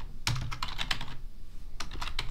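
Python code is typed on a computer keyboard in quick, close key clatters, with a short pause midway and no talk.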